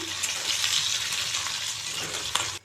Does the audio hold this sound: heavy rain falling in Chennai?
no